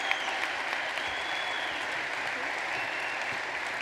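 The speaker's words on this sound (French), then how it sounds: "Ou au moins des applaudissements." Audience applause fills a brand launch event, a steady, dense wash of clapping holding at an even level throughout with no pauses.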